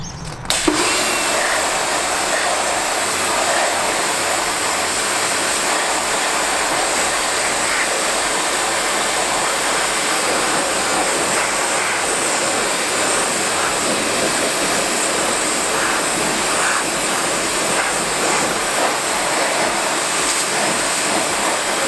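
Karcher K2 Full Control pressure washer spraying an alloy wheel up close, a loud, steady hissing roar of water jet and motor running continuously without pause.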